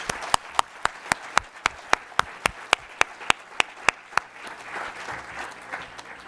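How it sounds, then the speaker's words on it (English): At a value investing conference, one person near the front claps in a sharp, steady rhythm, then the wider audience joins into softer, scattered applause that continues to the end. "I wanted to recognize George by giving him a nice round of applause"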